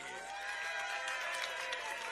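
Brazilian supporters at a New York hot dog eating contest weigh-in cheer and applaud, a steady dense roar of clapping and crowd noise throughout the short burst.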